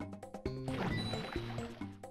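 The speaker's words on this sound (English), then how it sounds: "All right, lowered the water." A water trigger in Super Mario 64 DS lowering the water level, heard as a short gurgling, sloshing rush of liquid over bright chiming game music notes.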